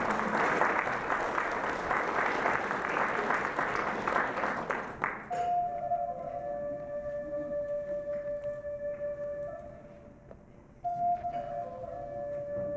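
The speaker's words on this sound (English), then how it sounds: "Another round of applause." An audience applauds at an education conference, dense clapping for about five seconds that stops abruptly, followed by quieter room tone with faint tonal sounds and a brief stir near the end.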